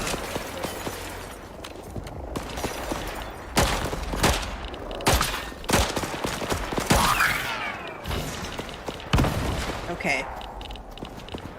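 Explosions and gunfire in the Icarus survival video game during an oil operation, with dense crackling volleys and repeated booming blasts over a busy game soundscape, and a brief spoken word.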